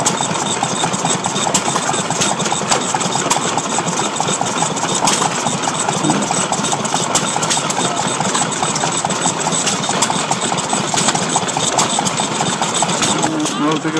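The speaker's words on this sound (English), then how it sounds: "engine's running here." Vintage engines run at an outdoor rally, a steady loud mechanical chugging and knocking that goes on without pause, with crowd noise and voices around it.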